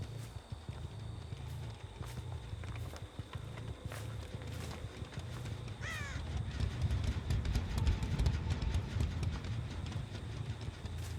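A crow caws in the horror game Dead by Daylight, several rough calls heard midway through a dense, steady mix of game ambience and footsteps, with no one talking.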